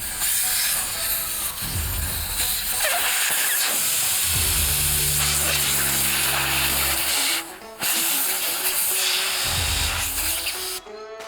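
Air hisses loudly and steadily from an off-road tyre being deflated, sometimes broken by short gaps and clicks from the valve, with a low rumbling tone in the middle section.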